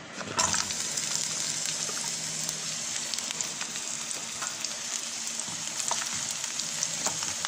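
Garlic, ginger, red onion and star anise sizzle steadily in a hot pan, a loud, continuous frying hiss with small crackles and pops throughout, no talking.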